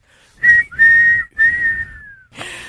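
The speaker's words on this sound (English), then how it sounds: "Blow the whistle." Three shrill whistle blasts come in quick succession, the last gliding slightly downward, followed by a brief burst of noise; the blasts are loud and close.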